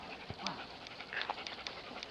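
A dog pants in quick, faint breathy bursts close by, with a few soft whimpers mixed in and no talk over it.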